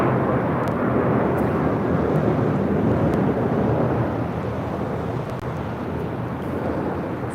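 A Volaris Airbus A321 taking off at LAX, a loud steady jet roar with a broad rumbling body, held constant and slowly easing slightly toward the end.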